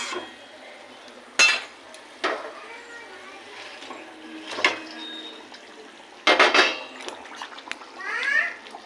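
Pieces of rui fish going into a pot of boiling kalia curry, a few distinct clinks and splashy thumps of pieces dropping in, with faint kitchen clatter and bubbling between them.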